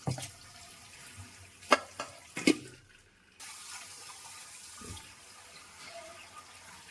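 Water drains from boiled Maggi noodles in a kitchen sink, a soft running trickle broken by a few sharp knocks and clatters.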